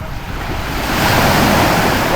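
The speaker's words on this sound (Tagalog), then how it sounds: "Ganyan pa rin kapayapa yung alon." Waves wash in with a building hiss of surf, rising from quieter water to a steady, broad rush close by.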